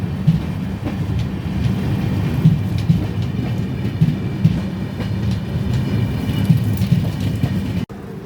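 The Saraighat Express on its Howrah to Guwahati run through northeast India in monsoon rain, heard as a steady low rumble of the running train with faint rhythmic wheel clicks and a constant wash of rain, without talk.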